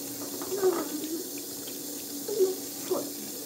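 Tap water runs into a sink while a young child's face is washed at home, a steady soft wash of flow with a few brief splashy bursts, fairly quiet, with a voice or two faintly under it.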